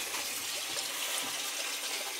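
Water purging from a gas boiler's relief hose, a continuous loud rushing gush that holds steady throughout with no voices.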